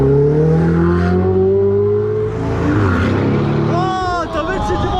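A Ferrari passes close by on an open road, its engine note sweeping loudly across with strong harmonic tones, while voices and background chatter carry on around it.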